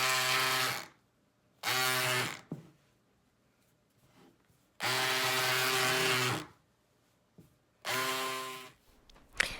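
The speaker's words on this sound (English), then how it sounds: "I am now taking my electric scissors and I am opening up the skirts" Electric scissors cut open thrifted skirts in four separate buzzing bursts of a couple of seconds each, a close, steady motor whine with short quiet gaps between.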